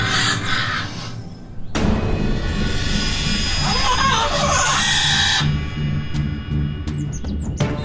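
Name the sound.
bird crying out in distress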